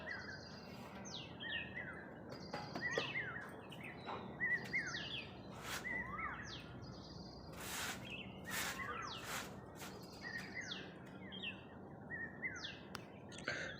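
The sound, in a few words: koel calling and birds chirping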